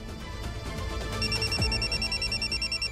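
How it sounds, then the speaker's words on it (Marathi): A phone rings with a repeating electronic ringtone that starts partway through, a steady looping electronic tone over low background music, fairly close and clear. "आईंचा फोन आहे."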